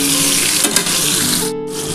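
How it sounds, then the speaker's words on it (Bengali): Chicken pieces for a crispy restaurant-style fry sizzle loudly in white cooking oil, a constant close hiss with a brief dip and a clatter partway through. "আর এটা সাদা তেলে ভাজবে"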